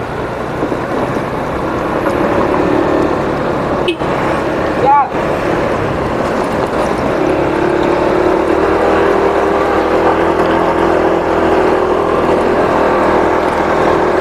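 A motorbike ride through a teak forest: a steady, loud engine drone mixed with road rumble holds for the whole stretch, with only a couple of brief breaks.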